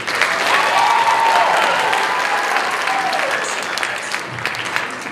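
A college audience at an illusionist's show breaks into loud, sustained applause that gradually fades, with a voice briefly cutting through the clapping.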